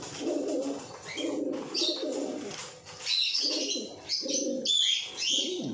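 Pigeons cooing in a steady series of low, throaty calls, close by, with a few brief higher chirps between them and no talking.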